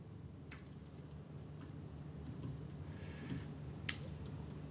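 Quiet, steady typing of code on a computer keyboard, a run of soft key clicks with a sharper tap near the end over a low background hum.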